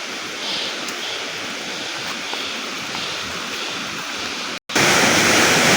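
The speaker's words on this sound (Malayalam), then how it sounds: "അവിടെ നിന്നാണ് വെള്ളം കുത്തി ഒഴുകി വരുന്നത്." Adimali waterfall rushes down in a constant, dense roar of falling water that briefly cuts out and then returns louder and closer.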